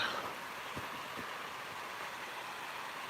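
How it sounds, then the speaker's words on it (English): A waterfall flows somewhere behind a snowy winter bushcraft camp, giving a steady, soft broadband rush that stays even and fairly faint throughout, with no voices. "That's a waterfall"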